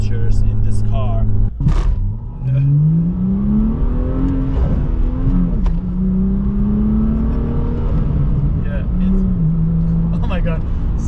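A BMW M2 engine revs up in a rising whine that climbs, dips and holds, loud and close from inside the car, with people talking over it.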